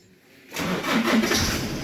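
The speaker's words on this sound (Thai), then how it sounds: "เดี๋ยวผมจะลองสตาร์ทเครื่องยนต์ดูนะครับ" A Nissan Navara D40 pickup engine cranks and catches after a short quiet moment, then settles into a loud, steady idle.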